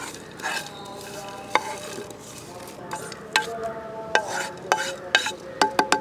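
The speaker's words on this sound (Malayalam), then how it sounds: "നമുക്ക് ഒന്ന് എല്ലാം കൂടി ഇട്ട് മിക്സ് ചെയ്ത് എടുക്കാം." Roasted sesame seeds, coconut pieces and peanuts are stirred into a sticky mix for Kerala neyyappam. A spoon scrapes and clinks repeatedly against the pot over a soft background sizzle, with sharp strikes growing more frequent toward the end.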